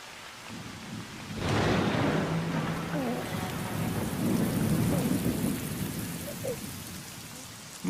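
Steady heavy rain pours throughout a thunderstorm, with a loud rumble of thunder swelling in about a second in and rolling on beneath the downpour; a few faint voice-like tones surface briefly.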